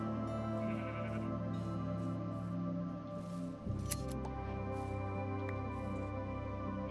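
Sheep in a survival video game bleating repeatedly, several drawn-out wavering bleats close by over a steady background, with no talk.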